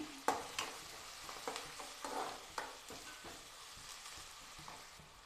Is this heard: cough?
no